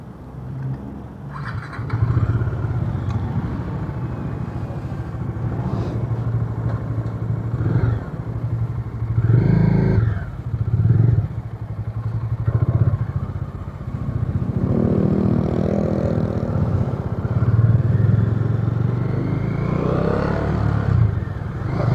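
A motorcycle cruising on an expressway carrying a full load, its engine a steady low drone with swells of rising revs and wind rush, loud and close throughout with no voices.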